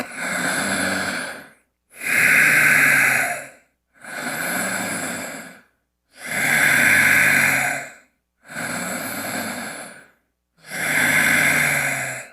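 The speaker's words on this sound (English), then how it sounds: "Three breaths." Deep breathing during a tai chi session: six slow, full breaths that alternate long inhales and exhales with short pauses between them. The breathing is close and fairly loud, with no talking.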